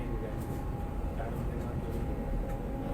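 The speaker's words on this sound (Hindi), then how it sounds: "यहाँ पे वंदे भारत एक्सेलरेट करते हुए" A Vande Bharat chair car train on the New Delhi to Varanasi run, heard from inside as it accelerates: a steady loud low rumble and hum of motion with a faint whine above, continuous throughout and without talk.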